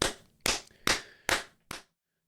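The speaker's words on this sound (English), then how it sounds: "Round of applause" Five sharp, distinct claps ring out in a quick, slightly uneven sequence, then stop, with no voices over them.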